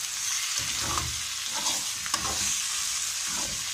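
Spices, tomatoes, garlic and green chilies fry in a pan and are stirred. A continuous sizzle is broken by several stirring scrapes and clatters.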